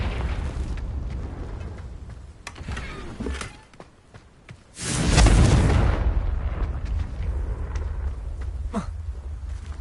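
A Confringo blasting spell explodes in a Harry Potter video game, a loud broadband boom that erupts midway and rumbles for about a second before settling into lingering noise, with smaller pops and impacts scattered before and after.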